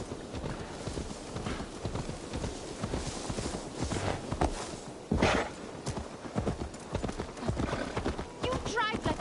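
Horse hooves clip-clop at a steady walking rhythm in Assassin's Creed Valhalla, close and continuous, mixed with other game sounds and some voice-like sound, with a brief whinny-like cry near the end.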